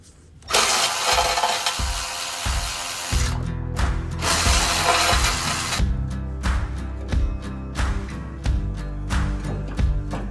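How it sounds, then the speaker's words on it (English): Power cutting tool slicing off the threaded ends of U-bolts during a Fox 2.5 suspension install on a Toyota Tacoma, loud bursts of harsh grinding with rattling mechanical clatter between cuts. "cutting off the ends of the threads on those U-bolts"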